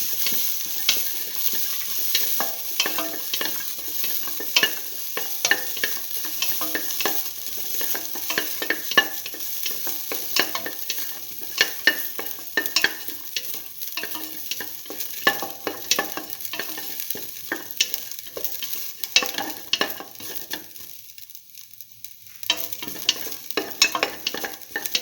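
Ginger and salt sizzle and fry in a hot pan, a steady crackling hiss broken by scraping stirs, with a brief quieter gap near the end.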